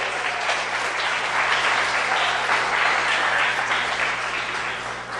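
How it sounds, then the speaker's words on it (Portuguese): Steady, full applause from a church congregation praising the Lord, dense continuous clapping heard from a distance with a low hum beneath. "Forte aplauso ao Senhor."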